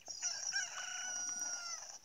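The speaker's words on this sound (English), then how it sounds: "Lots of fun to be had with chickens." A chicken in a Zelda game set in Hyrule gives a short, high, drawn-out crowing call, faint and alone with no talk over it.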